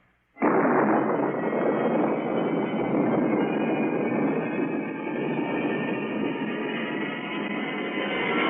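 A rocket blast-off effect in a science-fiction radio drama roars in abruptly after a countdown and holds as a loud, steady, broadband rumble for several seconds with no voices.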